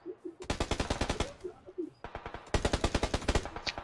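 Two rapid bursts of automatic gunfire in PUBG, each a tight string of sharp, loud shots, separated by a short pause.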